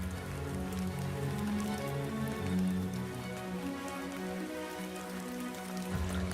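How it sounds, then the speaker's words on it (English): Heavy rain pours steadily through the Amazon rainforest during the wet season, a dense, even patter of drops on leaves and surfaces that continues without pause and with no voices. "Rain falls incessantly throughout the Amazon's wet season"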